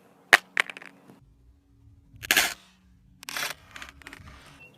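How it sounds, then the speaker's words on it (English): A Samsung Galaxy S6 Edge phone falls face down onto its glass back, giving a sharp hard clack followed by several bursts of rattling, clattering impacts with quiet gaps between them. "I'm going to try and drop it face down, see if it would crack."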